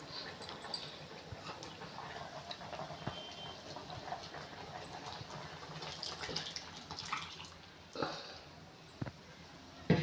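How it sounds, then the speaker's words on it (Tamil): Tamarind water poured into cooked, mashed lentils for a South Indian sambar: a steady, fairly quiet liquid wash and trickle running throughout, with a few soft clinks near the end. "அதில் கொஞ்சமாக புளி கரைச்சலை ஊற்றிக்கிறோம்."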